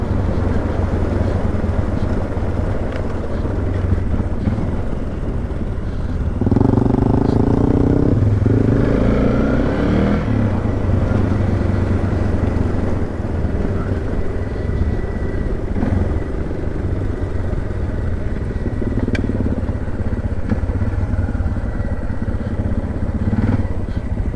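A motorcycle ridden on a dirt track in Western Australia, its engine droning steadily and close throughout with wind rush, rising briefly to a harder revving burst partway through.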